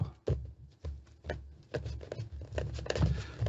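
A quiet, rhythmic series of soft papery riffles and taps, like a deck of cards being shuffled close by, with no talking.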